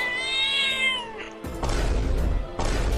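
A cartoon cat gives one clear, drawn-out meow, then rough, noisy snarling bursts follow close and fairly loud, with no voices.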